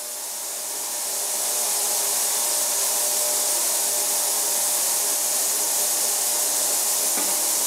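Water spray rinsing detergent off a metal cutter wheel part pulled from an ultrasonic cleaner: a steady, bright hissing spray that swells in the first second and then holds constant and close.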